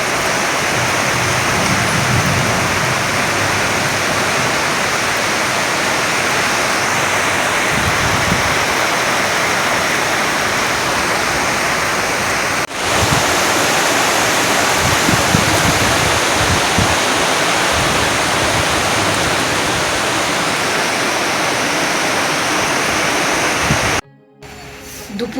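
Heavy monsoon rain pours down outdoors in a dense, unbroken hiss that holds loud and even for the whole stretch, with only a brief dropout near the end and no talking.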